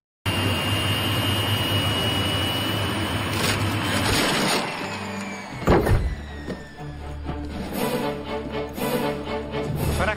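A private jet's engine in a South Park episode, a loud steady whining roar that drops away midway, followed by a thump and a lower lingering rumble.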